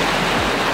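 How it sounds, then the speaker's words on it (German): Ocean waves at a beach, heard as a loud, steady, close wash of surf noise over a brief moment with no voices. "die Wellen sind einfach zu laut"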